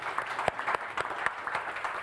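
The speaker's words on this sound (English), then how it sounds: "round of applause for Barry, please" Audience applause for Barry during a live trade-show presentation at IBC 2025, a steady patter of clapping from a crowd with a few sharper individual claps standing out, moderately loud and without talk.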